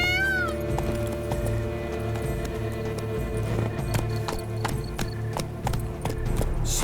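Horse hooves clip-clop at a steady trot in The Witcher 3: Wild Hunt (Blood and Wine), each hoofbeat crisp and rhythmic over a continuous bed of game music and ambience, with no talk.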